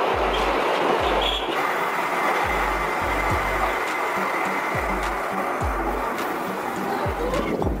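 Funicular hill-climber train with two counterbalanced cars running on steep track, a steady rumbling roll with a regular rhythm of low wheel thumps over rail joints, continuous and fairly loud throughout.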